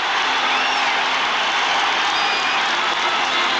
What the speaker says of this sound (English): The raucous crowd at Yankee Stadium.